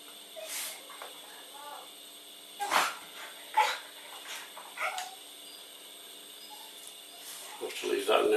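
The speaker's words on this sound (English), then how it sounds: "the dog wants to go out again" A dog barks in short separate bursts to be let outside, in a room with a steady electrical hum behind it, some barks louder and nearer than others.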